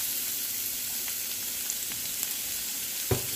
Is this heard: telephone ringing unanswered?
no